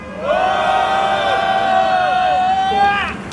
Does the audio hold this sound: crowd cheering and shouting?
yes